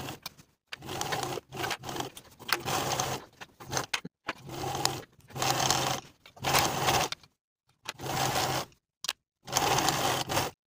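A sewing machine stitches a trouser crotch seam in short whirring bursts, about eight runs separated by brief pauses, close and fairly quiet.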